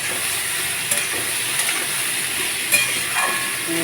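Ginger paste with cumin and coriander powder frying in a pan, a steady bright sizzle with a few scraping stirs of a spoon, close and fairly loud with no talking.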